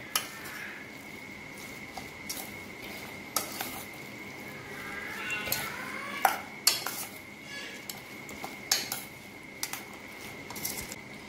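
Brinjal bharta mixed in a pot, with repeated clinks and scrapes of a spoon against the metal at an irregular rhythm over a faint background, close by.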